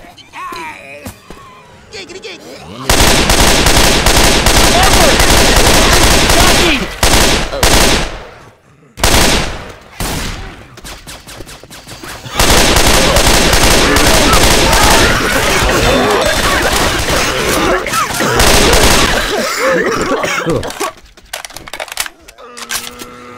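Heavy, sustained automatic gunfire in Left 4 Dead 2, loud and close, in two long stretches split by a short pause, with groans and voices mixed in.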